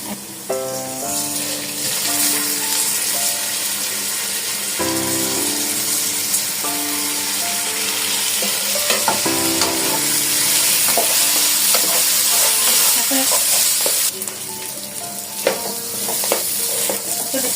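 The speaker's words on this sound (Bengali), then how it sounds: "কিছুক্ষণ নেড়ে একটু লাল হওয়া পর্যন্ত লবঙ্গ দিয়ে দিলাম বেশি একটু" Cloves frying in a pan while being stirred give a steady loud sizzle, with repeated scraping strokes of the spoon and a rhythmic background beat.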